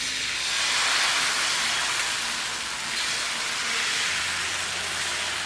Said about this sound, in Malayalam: ഞാനിവിടെ ഒരു കാസ്റ്റ് അയണിൻ്റെ പാനാണ് ഉപയോഗിച്ചിരിക്കുന്നത്. നല്ലെണ്ണ തേച്ച ശേഷം നമുക്കിതിലേക്ക് മാവ് കോരി ഒഴിച്ചു കൊടുക്കാം